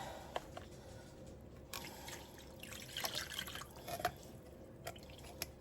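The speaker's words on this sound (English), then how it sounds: "rinse out your can of all those goodies that you left behind by just putting milk in there" Milk poured into an emptied grocery can to rinse out the leftover contents, giving soft liquid dribbles and drips with a few small splashes, close and fairly quiet, no talking.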